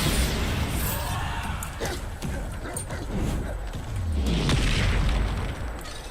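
The Bombarda explosion spell goes off in Hogwarts Legacy, a deep booming blast within busy game audio with a low rumbling sweep near the end and no talking.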